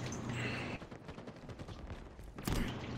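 Gunfire in the Halo Infinite video game, a flurry of distant shots under a steady game rumble, capped by one loud sharp crack near the end.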